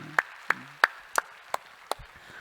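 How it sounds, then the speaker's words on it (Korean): Clapping in a church service: a handful of sharp, separate hand claps at a slow, uneven pace, crisp and fairly close, with quiet gaps between them. "우리 함께 격려의 박수하겠습니다."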